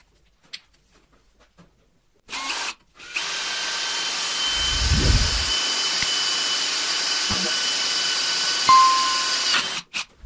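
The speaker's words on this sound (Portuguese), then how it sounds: "nós vamos fazer o primeiro furo ali no metal com uma broca de 5 milímetros" A DeWalt DCD7771 brushless cordless drill with a 5 mm bit bores into metal, giving a short trigger blip and then a sustained steady whine for several seconds before it stops, close and loud.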